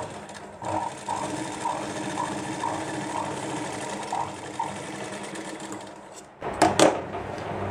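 A sewing machine with a double presser foot runs along a neckline edge, a steady close whir with faint rhythmic ticks, then a few louder knocks near the end as it stops; no talk.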